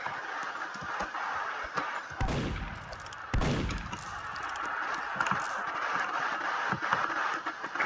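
Scattered gunfire in a Roblox game: a steady crackle of distant shots under a noisy game background, broken by two louder, heavier blasts close together, with no talking.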